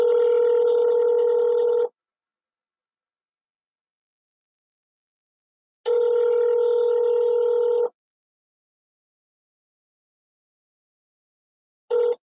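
An automated telephone menu sounds a steady electronic tone in bursts of about two seconds, separated by long silences, with a short third burst at the end. No voices are heard.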